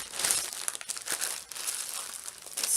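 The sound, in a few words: crinkling plastic freezer bag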